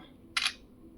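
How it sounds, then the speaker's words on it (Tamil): The OnePlus Nord CE 3 phone camera fires its shutter sound once, a short crisp click near and fairly faint against a quiet background. "குயிக்காகவே வந்து ஷட்டர் ஆகுது."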